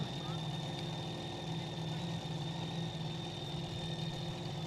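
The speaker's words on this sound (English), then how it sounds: "So let's see what Tiana can do with the Bobcat Junior in the final." A mini rod pulling tractor idles steadily at a European Championships tractor pulling event, a continuous mid-pitched engine drone heard from a distance under a constant background hum.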